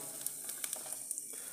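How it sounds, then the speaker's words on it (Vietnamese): Tofu pieces fry in a pan with oil, giving a steady close sizzle with small crackles and pops scattered through it. "rán đậu cả một nghệ thuật đây mình nói rồi"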